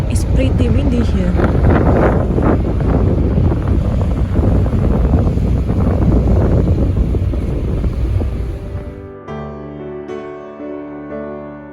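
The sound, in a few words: wind blowing on the Sunshine Coast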